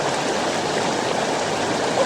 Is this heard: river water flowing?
yes